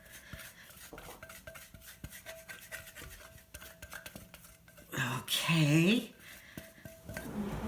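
A utensil scrapes butter and salt from a bowl with repeated close rasping strokes, and a voice speaks over the scraping, briefly drowning it out.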